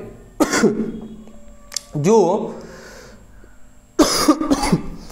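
A man coughs a few times between bits of speech, the coughs sharp and close, followed by a throat-clearing sound.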